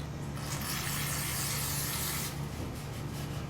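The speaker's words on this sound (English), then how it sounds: "we'll just take some brake cleaner, little brake cleaner" Brake cleaner sprays in a steady, close hiss onto the chain side of a Kawasaki Z H2 supercharged streetfighter motorcycle, one continuous burst that eases off slightly toward the end.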